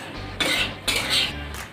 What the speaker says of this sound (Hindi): इसको लगातार चलाते रहना है, छोड़ना नहीं है।